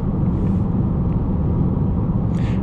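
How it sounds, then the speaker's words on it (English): Steady low road and tire roar inside a moving new Toyota Corolla Hatchback with manual transmission, a constant rumble filling the cabin with no talk over it. "It's the road noise, the noise coming in from the tires and stuff that's getting in the vehicle"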